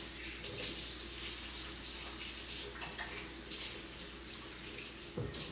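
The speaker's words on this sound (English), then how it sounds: "All right, I'm gonna rinse my hands." A kitchen tap runs in a steady rush while hands are rinsed under it, with a faint clunk at the end and no talk.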